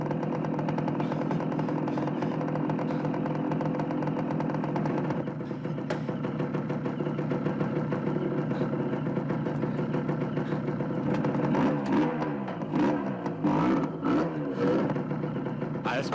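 An engine runs at a steady idle, a constant mid-pitched hum that rises slightly partway through, with faint voices near the end.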